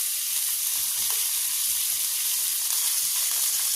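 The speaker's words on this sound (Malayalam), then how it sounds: "ഇനി നമുക്കതൊന്ന് വഴറ്റിയെടുക്കണം" Green chilies, ginger and onion sauté in a hot pan, giving a continuous, even hissing sizzle up close with faint stirring underneath and no talking.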